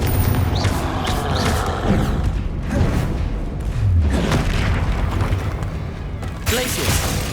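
Confringo fire-blast spells exploding during Hogwarts Legacy combat, a dense run of booming blasts and thuds with heavy rumble throughout, while a voice speaks over the action.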